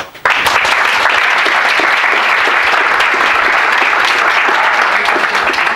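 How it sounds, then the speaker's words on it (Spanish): Loud, dense audience applause for speaker Ramón Nogueras at a live Escépticos en el Pub talk, starting abruptly and holding steady, close and full, throughout. "pido para Ramón un fuerte aplauso"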